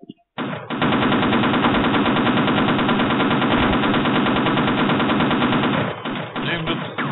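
A cannon in the video game Half-Life fires in a continuous rapid burst, loud and sustained for about five seconds before it breaks off, with scattered game noises at the edges.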